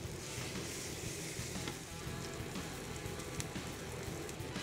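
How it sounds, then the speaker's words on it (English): Dense, steady crackling sizzle of duck breast skin-side down on a hot metal plancha, continuous and fairly quiet, with no voices. "that hot metal is going to sizzle and crisp the skin"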